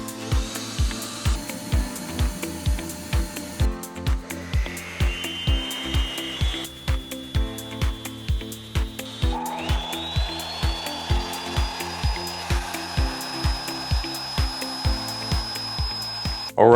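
A shop vac, a miter saw and a table saw run together off an AFERY P310 backup power station, a loud, steady workshop roar with a regular pulsing beat and motor whines rising in pitch as blades spin up.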